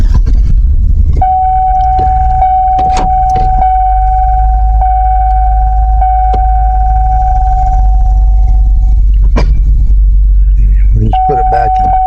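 A four-wheel-drive truck engine pulling a log rumbles loud and close throughout, a steady whining tone riding over the low drone with a few sharp knocks and clunks.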